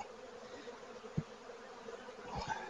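Honeybees hum faintly and continuously during a hive inspection, a soft distant drone broken by a brief knock and some light handling noise.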